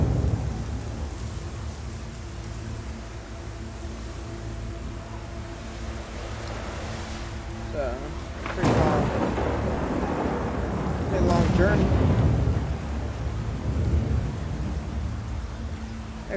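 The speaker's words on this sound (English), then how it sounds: "I really like the thunderstorm." A thunderstorm in the video game God of War: steady rain hiss and low rumble throughout, with two loud thunder cracks rolling in at about nine and eleven seconds, a faint voice briefly heard under the storm.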